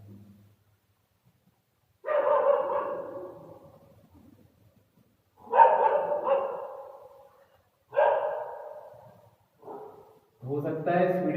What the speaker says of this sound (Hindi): थोड़ा सा बाहर का शिकार चल रहा है कुत्तों का